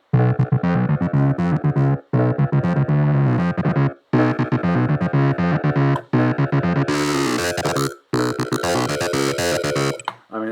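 A Dune synthesizer playing an FM patch with an added sine-wave oscillator dropped an octave, as it is tweaked: loud, distorted, harmonically dense phrases in repeated bursts with short gaps, growing brighter and harsher toward the end.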